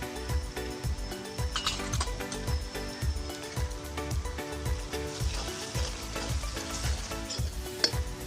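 Ground coriander, red chilli and garam masala roasting in oil on a village-style wood-fired stove for palak paneer. The loud, continuous sizzle is punctuated by regular scraping stirs, with faint music underneath.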